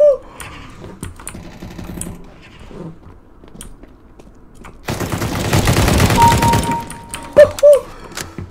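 Desert Eagle gunfire in CS:GO on the Dust II map during deathmatch: bursts of rapid shots, with a dense stretch of automatic fire in the middle and a few sharp single shots after it, close and loud, alongside keyboard clicks.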